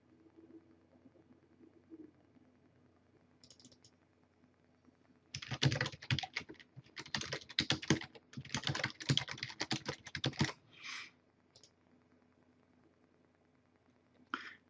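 Fast, steady computer keyboard typing in dense bursts while filling in an online form, with short pauses between runs of keystrokes and no talking.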